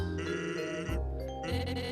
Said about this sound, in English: You can hear the goat.